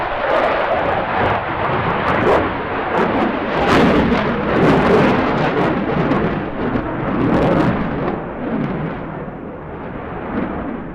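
A fast jet performs a series of aileron rolls at a seaside airshow, its loud, roaring engine noise rising and surging continuously, with crackling bursts throughout.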